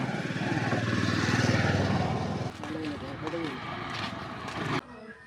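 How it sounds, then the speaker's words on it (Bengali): A motorcycle passes on a road, a loud close engine rumble and buzz that cuts off abruptly midway, while someone talks over it and keeps talking afterward. "আর এই যে মোটর সাইকেল এলো"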